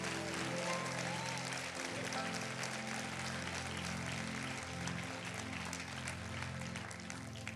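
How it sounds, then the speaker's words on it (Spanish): Church congregation applauding during a Spanish-language sermon, broad sustained clapping over a steady background of organ or keyboard tones, moderately distant. "¿Cuántos le dan un aplauso al Señor?"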